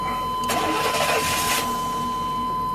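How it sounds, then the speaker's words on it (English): A high-mileage truck engine with a dirty fuel filter cranks and almost catches in a brief rough burst over a steady background hum, then fades without starting. "It almost started just then."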